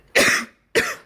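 Two sharp coughs from one person, close and loud, separated by a short pause.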